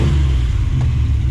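A 1970 Duster's 340 V8 idles low on a temporary carburetor, giving a steady, close, deep rumble with no talking over it.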